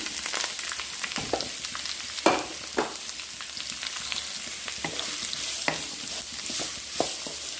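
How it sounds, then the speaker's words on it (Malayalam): Finely chopped onions sauté in coconut oil with popped mustard seeds in a wok, giving a steady, close sizzle broken by occasional stirring scrapes, with no talking. "ഞാൻ ഈ കടുക് വറുത്തതിനകത്തേക്ക് ഞാൻ ഈ കൊത്തി അരിഞ്ഞ സവാള ഇട്ട് നന്നായിട്ട് വഴറ്റുകയാണ്"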